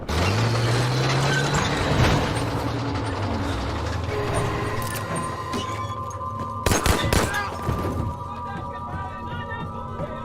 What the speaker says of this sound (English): I'm gonna run over here and shoot this guy in slow motion